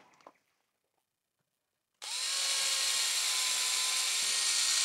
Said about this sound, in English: we drill our first hole